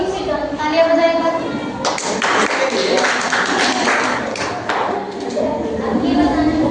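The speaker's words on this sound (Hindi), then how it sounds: "तालियां बजाएगा" Students in a classroom break into a burst of clapping lasting about three seconds, the dense patter rising sharply and then stopping, with voices talking before and around it.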